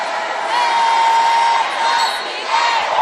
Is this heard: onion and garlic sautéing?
no